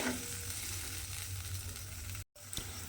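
Bean gravy with a little added water simmering in a pan, a steady soft sizzle and bubbling close up, with a brief gap near the end.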